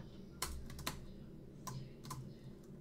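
Computer keyboard typing while setting up a homelab dashboard, a handful of crisp separate keystrokes in two small bursts, close and fairly quiet, with no talking.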